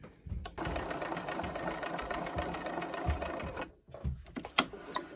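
A sewing machine runs a steady, rapid stitching burr along a 1 cm seam allowance of a bucket hat, broken by a brief pause and a few short bursts near the end, with no voices.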